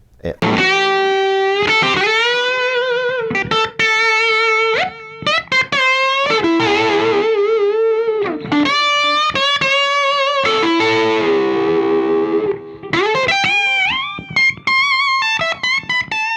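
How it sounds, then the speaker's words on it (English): A loud, distorted electric guitar through a Laney LA100SM 100-watt tube amp head at full volume plays chords and sustained notes, thick and saturated with brief pauses. "run a 100 watt tube head at maximum volume and not get told to be quiet"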